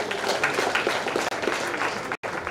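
Applause from an awards ceremony audience at a construction artisan event, a fairly soft, somewhat sparse clapping texture cut by two brief dropouts.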